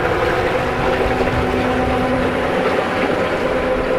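The electric motor on a solar-powered pontoon boat runs on the water with a steady, even hum and churning wash, holding constant from start to finish without speech.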